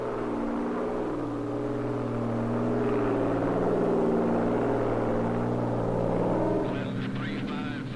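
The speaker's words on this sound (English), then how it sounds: "This airplane is heading toward a hurricane." Steady droning engine of a propeller airplane in flight toward a hurricane, a continuous low hum that swells slightly mid-way, with someone narrating over it.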